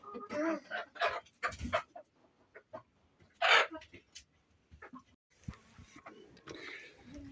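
A broody hen clucks and grumbles in low, throaty bursts close by, with scattered rustling and a brief louder squawk partway through.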